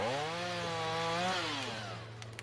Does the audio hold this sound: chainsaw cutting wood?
yes